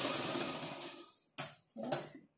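A sewing machine runs a long stitch along a folded blouse strip, then two short bursts follow after brief pauses, close and clear with no talking.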